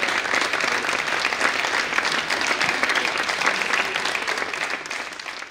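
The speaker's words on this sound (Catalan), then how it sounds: "Públic i participants aplaudeixen." Audience and participants at the inaugural event of a centenary celebration give sustained, dense applause that carries evenly at full strength before easing slightly toward the end.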